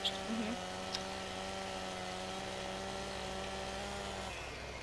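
Chainsaw cutting trees in Farming Simulator 2015, a steady droning engine buzz held at even pitch for several seconds, with a voice heard briefly at the start.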